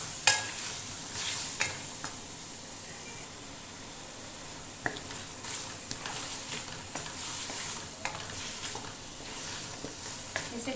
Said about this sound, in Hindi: इसे 4 से 5 मिनट हमने इसे घी के अंदर भूनना है, फ्राई करना है